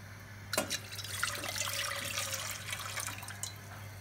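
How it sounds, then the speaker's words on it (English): Water pours and splashes into a cooking pot holding plantain, a steady wet trickle running the full length at moderate level, with a sharper splash near the start. "We're going to pour it in the pot, we add some water."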